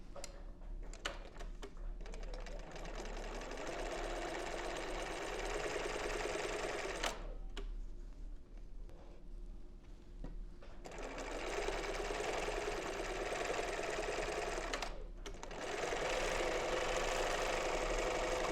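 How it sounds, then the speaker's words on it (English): Sewing machine doing free-motion stitching on fabric, its motor running in steady bursts that stop and restart, with a brief pause around the middle of the stretch and no talking. "Remember to lower your foot. And then you start sewing."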